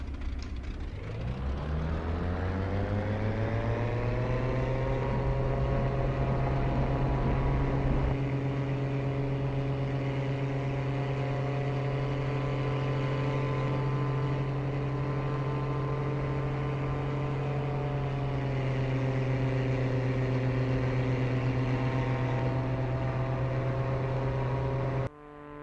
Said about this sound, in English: I'm going to release the brakes, slowly advance the power, and get airborne.